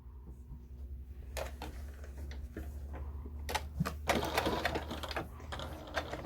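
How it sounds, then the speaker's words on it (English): A sewing machine topstitches around a terry cloth towel, running in short bursts of rapid stitching with pauses between, fairly quiet and close. "we're going to top stitch all around, closing up that hole"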